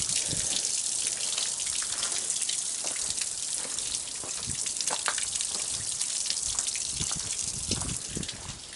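Water gushes steadily through a flush hose hooked to the outboard motor of a Bass Cat Pantera IV bass boat on its trailer, a loud, continuous spray and splash with no pause.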